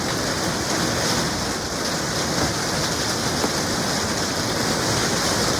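Steady rain falls outdoors in a garden among potted shrubs such as Japanese holly and boxwood, a continuous dense hiss of drops on surfaces with no talking, even and fairly close throughout.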